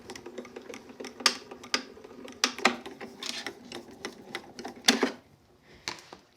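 A die cutting machine feeds smaller plates, taped-down pieces and a cutting mat through its rollers, giving close, irregular clicking and ratcheting bursts with brief louder knocks, with no talking.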